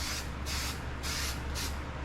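Bursts of aerosol spray paint hiss onto the side of a homemade can lantern case, four quick even sprays in a row, close and clear over a faint low hum.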